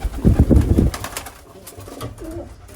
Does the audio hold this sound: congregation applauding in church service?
no